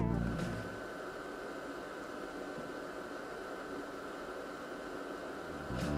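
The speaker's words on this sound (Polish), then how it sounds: "Szum wentylatora jest wyraźnie słyszalny" Steady broadband whir of a projector's cooling fan running continuously at moderate level, with no voices.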